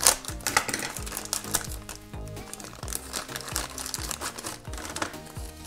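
A plastic toy packet crinkles and crackles in short bursts as it is unwrapped, close up, with irregular rustling and snapping as it is handled.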